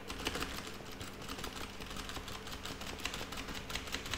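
Quiet, rapid computer keyboard typing during Minecraft play, with a steady run of crisp key clicks close to the mic and no voices.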